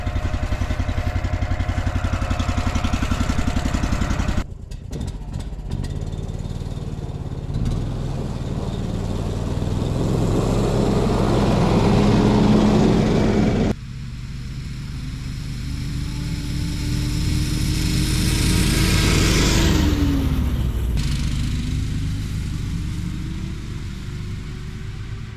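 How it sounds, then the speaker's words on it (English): A drill-powered ice auger bores through lake ice on a -1 Celsius day with fluffy fresh snow, a steady loud motor whine and grinding rumble with shifting pitch, pausing and restarting in long close-up runs. "drill-powered otter fishing auger, ice hole auger."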